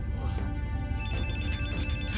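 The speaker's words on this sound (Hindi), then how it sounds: "फोन उठाओ।" An electronic telephone ringtone trills steadily through a tense scene in a dubbed action movie, its repeating tones sitting over a busy low background with voices nearby.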